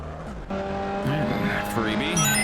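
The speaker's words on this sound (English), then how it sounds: "And another one, doing some donuts on the infield there." A Formula Vee race car in iRacing spins doing donuts on the infield at Rudskogen, its tires squealing in wavering, looping whines over a buzzing engine, loud and continuous, with a commentator talking over it.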